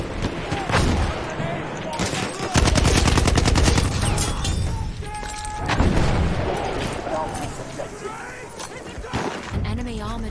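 Battlefield 1 combat with rapid automatic gunfire from a BAR, a dense rattling burst mid-clip, amid scattered shots, booms and distant fire, while someone talks excitedly over the loud chaotic battle.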